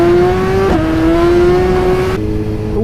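A Suzuki GSX-R1000 sportbike engine pulls hard on the road, its loud tonal drone shifting pitch mid-run and again near the end as it accelerates, close to the listener.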